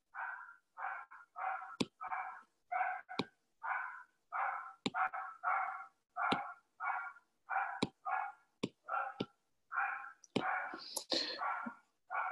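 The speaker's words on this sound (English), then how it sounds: "My dogs are barking" Dogs barking in a steady run of rapid, evenly spaced barks, fairly close and loud, with sharp clicks and knocks scattered through and a busier, noisier burst near the end, no talk.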